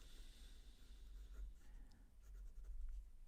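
A steel medium-nib Asvine P20 piston-filler fountain pen scratches softly across paper in quiet, continuous strokes with faint breathing nearby.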